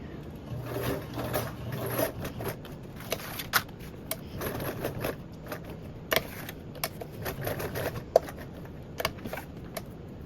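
A sewing machine stitches in short bursts of fast mechanical clatter with scattered clicks and handling noises, fairly faint and close, with no voices.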